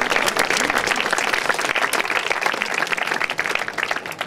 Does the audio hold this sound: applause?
yes